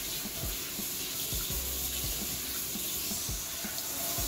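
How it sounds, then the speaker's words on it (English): Steady running water splashes as shampoo is rinsed out of 4A-B textured hair, a continuous close hiss of water with soft irregular thumps and drips. "What I'm going to do now is rinse my shampoo out of my hair"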